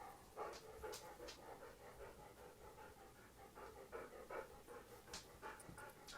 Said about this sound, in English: just because the other dogs are barking doesn't mean you have to